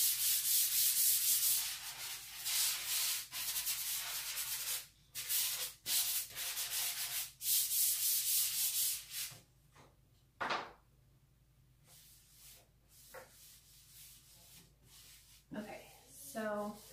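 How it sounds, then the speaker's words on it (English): Sandpaper rubbing over a faux wood painted finish in quick back-and-forth strokes, loud scratchy bursts that grow sparser and fainter, with a voice speaking briefly near the end. "I'm going to go ahead and do a quick sanding"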